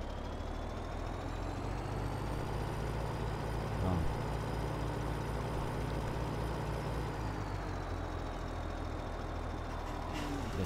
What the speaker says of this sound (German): Aber der LKW ist auch irgendwie so lahm.